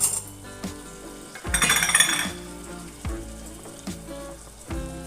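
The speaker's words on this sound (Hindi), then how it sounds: "छोटे टुकड़ों में कट करा हुआ एक आलू डालेंगे" Small cut potato pieces tipped into hot, spiced masala gravy in a village kitchen, giving a brief burst of sizzling and frying, followed by occasional soft clinks and stirring knocks of utensil against the pan.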